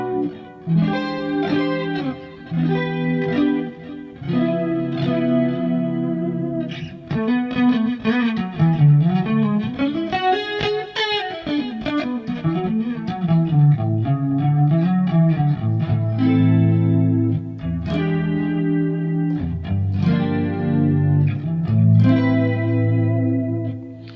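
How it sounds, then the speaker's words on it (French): Electric guitar played through a Theta Pro DSP effects unit with chorus added to a clean tone with reverb and a short delay, heard as sustained shimmering chords and melodic lines, steady and fairly loud throughout. "Et si j'ajoute un chorus,"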